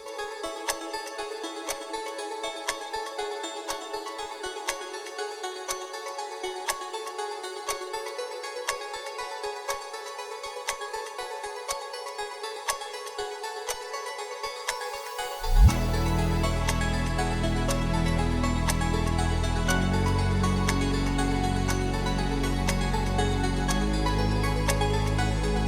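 Electronic music track builds over a steady pulsing beat, then drops hard into a loud, sustained deep bass section that continues to the end.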